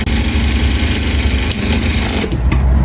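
A sewing machine stitches the seam of a mermaid skirt, running loud and close with a continuous fast mechanical whir and a brief change in pace near the end.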